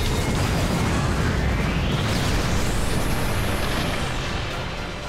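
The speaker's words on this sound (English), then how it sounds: "Golden Hind, ready the main cannons. Queen Anne's Revenge, ready the main cannons." Cannon fire from the sailing warships Golden Hind and Queen Anne's Revenge in an anime battle, a continuous heavy roar of blasts with a rising whistling streak overhead, loud and sustained throughout.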